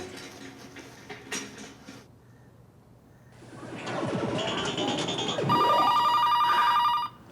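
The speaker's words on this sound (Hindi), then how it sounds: "आ गया उस वाहियात का फोन फिर से" A telephone rings indoors, a rising electronic ringtone that grows louder and repeats in a steady pattern after some quieter shuffling sounds.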